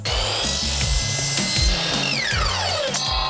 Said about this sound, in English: I'm just flipping this trim on its side and doing a 45-degree angle cut.